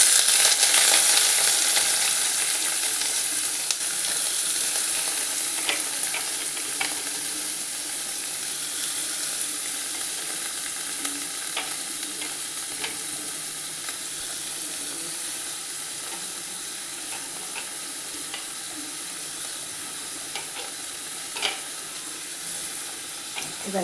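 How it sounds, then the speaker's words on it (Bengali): Onions dropped into hot oil in a home kitchen sizzle loudly at first and then settle into a steady, crackling fry. Faint clicks and scrapes of stirring come at intervals, and no voice is heard. "দেখুন, তেলটা গরম হয়ে গেছে, আমি পেঁয়াজটা দিয়ে দিচ্ছি"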